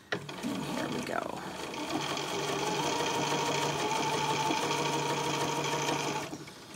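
A sewing machine runs steadily, stitching a quilt block corner to corner along a quarter-inch seam, with a continuous close whirring hum after a brief start and a few small clicks, then stops near the end.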